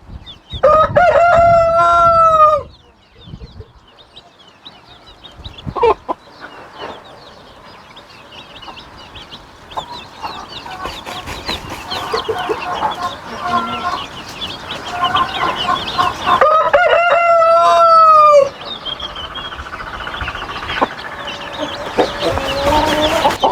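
Four Gurk hens let out together mix clucks and calls with a loud rooster crow near the start and again later, close and busy, with scattered softer clucking and rustling between; nobody speaks.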